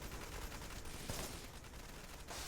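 Rapid gunfire rattles in the video game Wanted: Dead during a headshot kill, a dense burst of shots with mechanical clatter under constant game noise.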